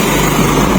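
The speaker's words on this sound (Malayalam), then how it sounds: "നമ്മളെ ട്രെയിൻ എത്തി." A local commuter train pulls into a busy station platform, its low steady rumble and rail noise filling the short moment at fairly loud level without talk.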